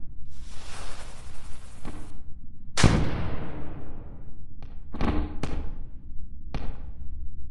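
Video-game fireworks in Melon Sandbox hiss as they launch, then burst in a string of sharp booms with crackling fizzy tails, one loud bang followed by several quicker pops.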